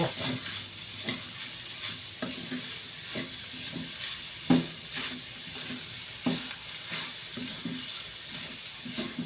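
Chicken pastil being stirred with butter in a pan, a soft steady sizzle with scattered clinks and scrapes of a utensil at an irregular rhythm, close by and moderately quiet.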